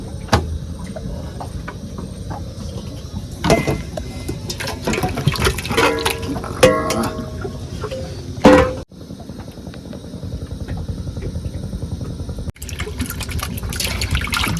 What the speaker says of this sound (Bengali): জল গরম হয়ে গেছে এবার মাছটাকে ধুয়ে নেব